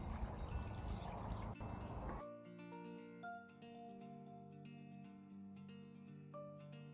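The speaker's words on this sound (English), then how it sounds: "So what I'm watering with is worm casting tea" Worm casting tea pours and trickles onto eggplant plants in a garden: a faint, steady liquid dribble beneath a long hum of tonal background sound.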